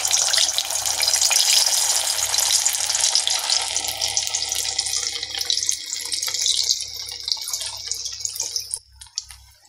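Spring onion and potato bondas deep-frying in a kadai of hot oil, a loud, steady, close bubbling sizzle that fades near the end, with no talk.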